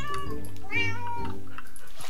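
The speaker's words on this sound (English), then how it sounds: "That cat's meowing is from her." A video game cat meows clearly several times in a row, with drawn-out, plaintive calls over a steady low background hum.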